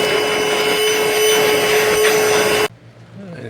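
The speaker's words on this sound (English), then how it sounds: "All right, I'm going to start vacuuming this thing." A vacuum cleaner roars loud and steady while cleaning the interior of a 1999 Ford 4x4 truck with a V10, then cuts off abruptly, leaving a quiet room.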